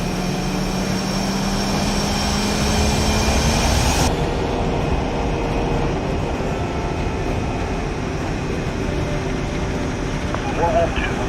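A jet aircraft taxiing in the game Ace Combat Assault Horizon: a steady, dense engine roar and whine that holds throughout, with a sudden change in tone partway through and radio chatter underneath.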